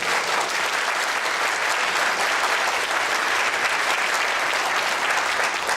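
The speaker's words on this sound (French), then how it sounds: "on peut les applaudir un peu plus fort quand même." A concert audience applauds steadily, a dense and continuous clapping from a sizeable crowd that holds at an even level throughout.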